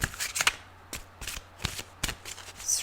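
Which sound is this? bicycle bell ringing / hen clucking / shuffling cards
shuffling cards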